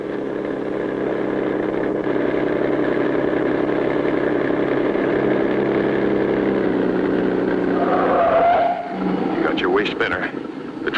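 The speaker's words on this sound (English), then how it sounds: "The driver starts the motor and away goes the truck." A cartoon truck's motor starts and drives away, a steady mid-pitched engine drone running loud and continuous, then shifting and breaking up near the end.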